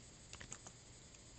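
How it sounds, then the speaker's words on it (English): A few light, quiet keystrokes tap on a computer keyboard in a cluster, then fade into faint room hiss. "You guys want to look at this with me before I continue typing?"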